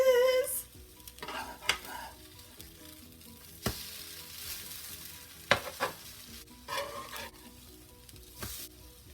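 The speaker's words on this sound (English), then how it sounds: "So now we're going to let the French toast finish cooking on the other side." Eggnog French toast fries in a pan after being flipped, with a soft, steady sizzle broken by occasional clinks and taps of a utensil against the pan.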